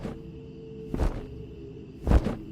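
Large bird wings beat loudly in a horror sound effect, two heavy whooshing flaps about a second apart over a low droning background tone.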